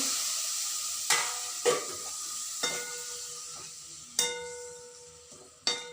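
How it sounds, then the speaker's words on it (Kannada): Spinach sizzling as it fries in a pan, a steady hiss broken by several sharp scraping stirs of a spoon against the pan at irregular intervals, close and clear with no talking. "ಹೀಗೆ ಹುರಿಬೇಕು. ಪಾಲಕ್ ಸೊಪ್ಪು ಭಾರಿ ಬೇಗ ಬೆಂದ್ಬಿಡುತ್ತೆ."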